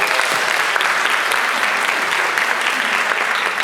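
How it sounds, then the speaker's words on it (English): Steady, dense applause from an audience at a film festival closing night, welcoming actress Farida Jalal; continuous clapping at even loudness throughout with no talk. "Please give her a big round of applause."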